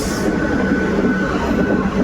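A train rumbles past close by, a steady broadband roar with rail noise throughout, loud and continuous.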